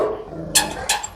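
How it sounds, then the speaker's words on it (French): Dog barking during an encounter with an aggressive dog, two short sharp barks close by over a low background murmur. "Lui, il continue d'aboyer."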